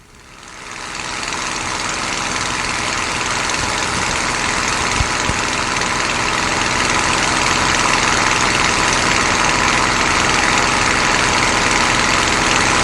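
A P-51 Mustang's piston engine drones steadily during a touch-and-go landing, a loud, dense and unbroken roar that swells in the first second and then holds constant with no one speaking.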